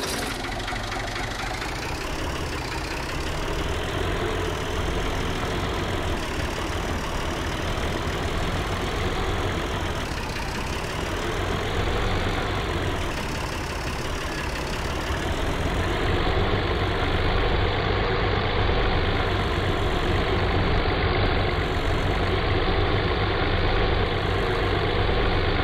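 Tractor engine idling steadily while being parked in Farming Simulator 22, on a mountain farm, a continuous low rumbling drone with a slight knock, loud and constant, with no talk over it.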